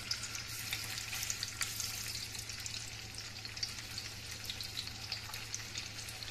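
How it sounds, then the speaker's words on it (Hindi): About 200 grams of small paneer cubes shallow fry lightly in a pan, giving a faint, even, continuous sizzle with soft crackles throughout and no talking. "हम पनीर को थोड़ा सा शैलो फ्राई कर लेते हैं।"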